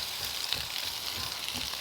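Potatoes fry and cook down in a pan at a motorcycle campsite while making Swabian potato salad, giving a steady, close sizzle with a soft bubbling crackle and no talking.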